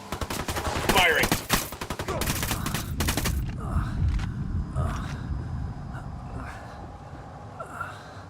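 Gunfire in Ghost Recon Wildlands breaks out as dense bursts in the first few seconds around a cemetery. After that come scattered single shots and shouted voices amid the game's ambience.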